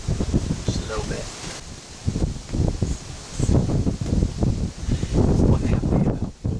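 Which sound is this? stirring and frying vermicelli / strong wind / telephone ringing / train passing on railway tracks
strong wind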